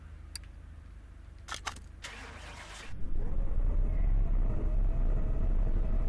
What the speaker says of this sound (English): That does not sound like a V8 engine at all.